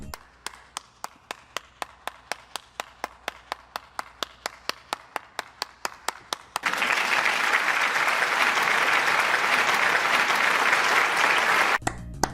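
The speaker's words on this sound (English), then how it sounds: "You guys hear me clapping?" A single person claps in a steady rhythm for several seconds, then a loud crowd-like wash of applause takes over and cuts off abruptly.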